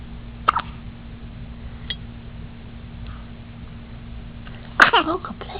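A sudden loud burst, apparently a sneeze, after a quiet stretch with a couple of faint earlier clicks.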